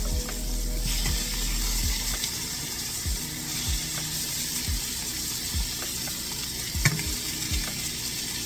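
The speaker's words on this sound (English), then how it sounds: "Love that sizzle." Pork chops fry in avocado oil with a steady, close sizzle and crackle throughout, broken by occasional soft clinks and stirring sounds, with no voices.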